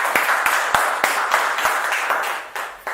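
An audience claps together in steady, dense applause that holds at a fairly even level for a few seconds and thins slightly toward the end.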